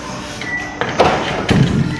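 Someone opens a garage door at a house, giving a few sharp clunks and thuds in quick succession, loud and nearby, over a low background hiss.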